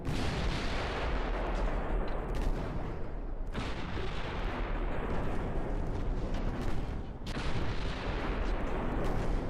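Naval gunfire and torpedo impacts in the Ultimate Admiral Dreadnoughts game, heard as a dense, continuous roar of booming shots and blasts that swell and overlap across the whole stretch.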